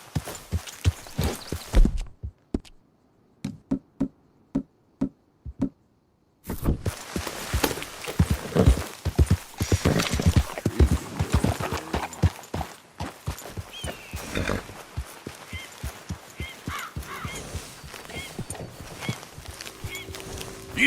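Horse hooves clip-clop in Red Dead Redemption, starting as a few isolated thuds around short silences, then turning into a busy run of footfalls mixed with ambient game sounds and occasional neighing.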